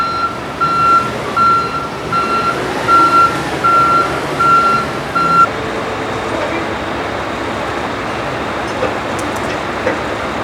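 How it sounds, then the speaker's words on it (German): A semi-trailer shunting tractor idles and works on a site where a truck rammed a roof structure, pulling it straight with a chain; a regular reversing beep pulses for several seconds over rumbling engine noise, then stops. "diese Rangiermaschine für den Sattelauflieger, die, glaube ich, zieht jetzt mit einer Kette die Konstruktion gerade"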